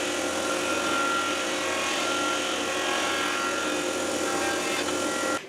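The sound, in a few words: saw and planer cutting and planing an epoxy-laminated piece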